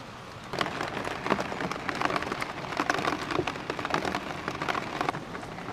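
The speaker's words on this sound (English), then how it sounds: "What do you think of the rain, girl?" Steady rain pours down, pattering densely on surfaces with scattered sharper drips, no voices.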